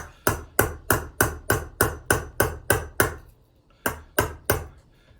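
Metal vessel being chased with a hammer, a rapid regular series of about ten sharp, ringing strikes, a brief pause, then three more blows, loud and close with no talk.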